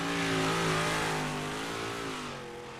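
A 358 modified race car in iRacing roars past at Kokomo, its engine a loud sustained drone that fades slightly as it pulls away, with no talking.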